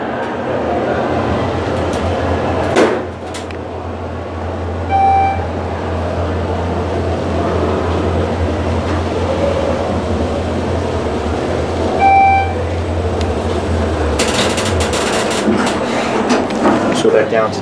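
A Schindler 400AE traction elevator at Meadowlands Racetrack in East Rutherford rides up with a steady low mechanical hum and rumble. Two clear chimes sound partway through, there are clunks near the start, and a door slides toward the end while people talk.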